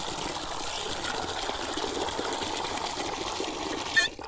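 Water runs steadily into a 5-gallon pail outdoors, a continuous close rushing and splashing flow that stays even for several seconds, then ends in a brief louder clatter.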